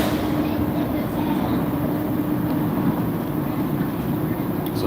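Metro train rumbling at Place Saint-Henri station in Montreal, a loud continuous rolling roar with a faint steady whine, close by, with murmured voices underneath.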